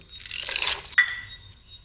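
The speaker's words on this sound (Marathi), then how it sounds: "आता आपण त्यात पास्ता टाकू" Dry pasta dropped into a pot of boiling water: one brief close splash and plop over a soft watery bubbling, with no talk.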